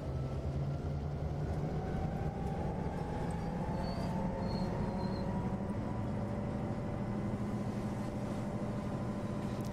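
Five Santa Fe diesel locomotives throttle up to notch 8 in a train simulator game, a loud continuous engine roar with rising tones and rail rumble, no talking.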